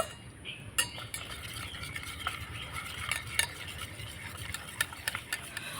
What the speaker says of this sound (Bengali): জল দিয়ে ভালো করে গুলে নেব।